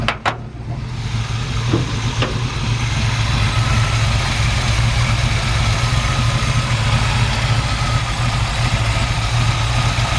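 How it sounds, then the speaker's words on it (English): A 1952 Chevrolet 3100 pickup engine idles steadily and smoothly close by, with a low, even rumble that runs for the whole stretch after a brief clatter at the start. "It's a really nice running engine."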